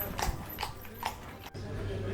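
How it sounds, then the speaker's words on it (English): Horse carriage hooves clip-clopping on the streets of Bruges, a few spaced, moderately close hoofbeats over steady outdoor background noise, with a soft voice briefly in the background. "watch out for these horse carriages"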